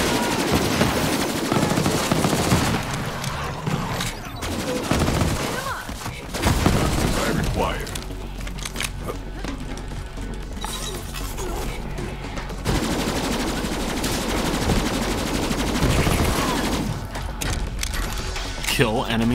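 Pistol gunfire and explosions from the video game Borderlands 3 rattle in dense, rapid volleys during co-op play, loud and near-continuous, with players talking over the combat.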